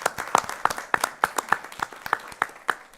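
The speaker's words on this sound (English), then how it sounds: "I'd like the board to give them a round of applause" Brief round of applause from the audience and board at a public budget and millage hearing in a meeting room, about three seconds of scattered, uneven hand claps at moderate volume with no speech.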